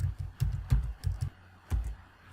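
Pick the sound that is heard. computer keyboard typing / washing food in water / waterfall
computer keyboard typing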